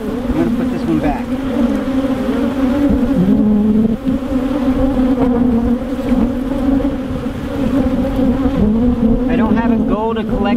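Honey bees swarm and drone around an opened hive, a dense steady buzz with shifting pitches as individual bees pass close, filling the whole stretch without pause.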